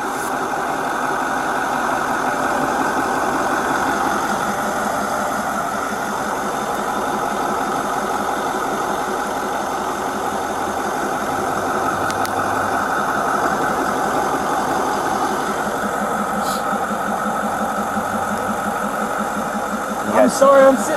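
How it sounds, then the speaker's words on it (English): A car engine idles close by with a steady, droning rumble that runs through the whole stretch, while voices talk faintly underneath it at a police scene on a front porch. "Sorry, I'm sitting next to this engine. I can barely hear you."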